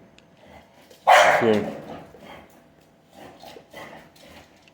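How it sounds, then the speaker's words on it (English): An excited dog barks in a short burst of loud yips and barks, then whimpers more quietly while someone talks over it. "the dog's excited."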